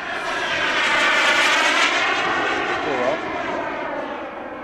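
A radio-controlled Hangar 9 Aermacchi MB-339 turbine jet model roars steadily in flight, loud and broadband with a gradual pitch sweep as it passes, then eases slightly toward the end.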